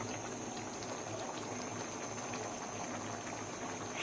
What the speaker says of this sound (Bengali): এখন কলার সঙ্গে ভালো করে মাছগুলোকে একটু মিশিয়ে নেব আর 2 মিনিটের মতো একটু ফুটিয়ে নেব